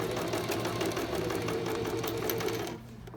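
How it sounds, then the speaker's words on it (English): Sewing machine stitching a zipper seam with long temporary basting stitches: a steady, fast mechanical whir and rattle, close and loud, stopping abruptly near the end. "I'm gonna finish the rest of the seam with a 4 stitch length"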